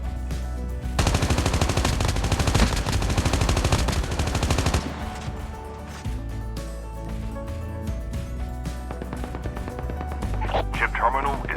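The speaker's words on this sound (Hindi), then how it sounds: "मुझे सामने से बहुत भयंकर गन फायर के साउंड आते हैं" Heavy automatic gunfire in COD Mobile, a loud sustained burst of rapid shots, then scattered quieter shots and game sounds with someone talking over them.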